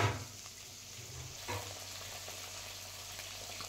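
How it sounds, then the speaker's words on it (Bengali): Folui fish fry in oil in a wok for a spicy chorchori, giving a steady, soft sizzle with a faint bump near the start and another at about 1.5 seconds. No one speaks. "মাছগুলোকে দু পিঠ উল্টো পাল্টি করে ভেজে নেব।"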